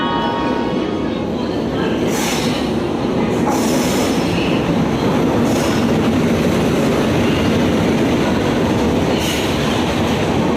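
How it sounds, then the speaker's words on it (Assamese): A passenger train pulls into a station in Assam, its steady loud rumble and rail noise filling the whole stretch, with brief brighter squeals and clatter over the top and people talking faintly in the background. "আৰু আমাৰ ট্ৰেইন আহি গ'ল এতিয়া"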